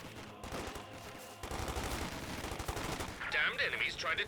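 Company of Heroes 2 battle gunfire crackles in rapid bursts and rattling volleys, with a louder burst of shots near the end.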